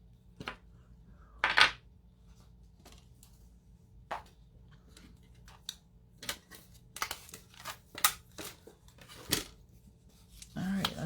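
Scissors cutting a candy shape out of cardstock for a fun-fold card, sporadic snips and paper rustles close by, scattered irregularly across about eleven seconds.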